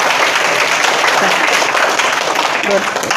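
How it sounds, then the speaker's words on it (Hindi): Children at an outdoor preschool game session clap together; brief, busy clapping with chatter and voices mixed in. "क्लैपिंग कर दो ताली बजाओ"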